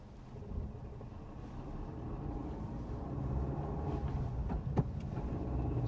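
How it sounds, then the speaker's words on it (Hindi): A Maruti Ignis pulls away in first gear, its engine a low, steady, muffled rumble heard from inside the cabin that rises gradually, with a few faint knocks and clicks and no talking. "Driving the car now."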